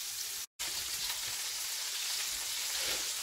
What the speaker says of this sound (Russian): процесс жарки пусть идет